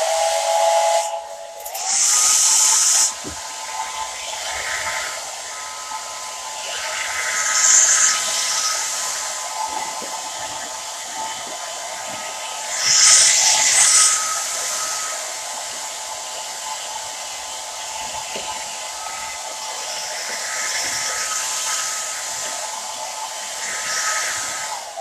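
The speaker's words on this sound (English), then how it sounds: "We'll hit it with the hair dryer." A hair dryer blows with a steady whooshing hum over a prosthetic makeup application on a face, swelling louder at a few moments as it moves closer, with no talking.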